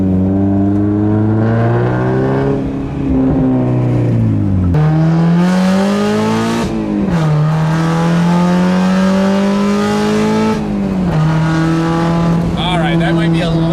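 A Mazda Miata with a new aftermarket exhaust revs hard, its loud, raspy engine note rising and falling through several pulls with crackling pops between, alongside some talking nearby.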